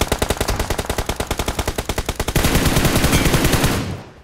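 Rapid automatic gunfire in a battle royale shooter game during a buggy ambush, a loud, evenly spaced burst of shots that runs into a denser, continuous volley before cutting off.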